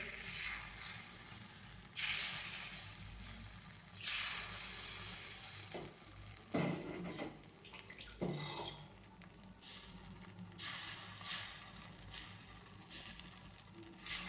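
Small sora pitha rice cakes fry in a clay mould over a gas flame, giving a steady close sizzle that swells and fades, with a few brief utensil clinks midway.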